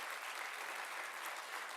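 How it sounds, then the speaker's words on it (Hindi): Dense, even applause from delegates filling an auditorium at a youth conference, a continuous wash of many hands clapping with no voices standing out. "तो इस सभागृह को गुंजायमान कर दीजिए डेलीगेट्स तालियां बजा बजा कर"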